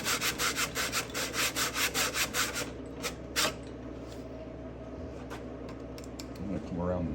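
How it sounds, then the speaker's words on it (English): Sandpaper rubbing inside a hand-sawn kerf in wood, with quick rhythmic back-and-forth strokes that are close and clear at first, then stop and leave quiet shop background. "you want to still keep sanding in one direction, just put a little pressure on it, squeeze them together"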